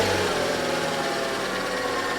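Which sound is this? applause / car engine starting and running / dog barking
car engine starting and running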